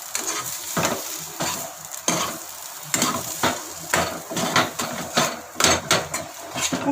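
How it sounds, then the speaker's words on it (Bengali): Potato filling stirred with ground black pepper in a pan, a spoon scraping and clattering in repeated strokes with a light sizzling hiss underneath, close and steady with no one speaking. "আবার এটা ভালো করে মিক্স করে নেব।"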